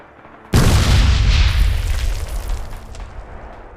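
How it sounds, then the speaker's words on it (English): Satchel charge blowing up a spawn bunker in the World War II shooter Red Orchestra 2: Rising Storm, a sudden loud boom followed by a long rumbling roll of debris that slowly decays. "In this case you can see that the guy is planting a satchel charge."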